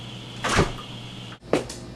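A door opens at the entrance of a garage, heard as two short knocking, rattling bursts a second apart, close by and alone, with no talk over them.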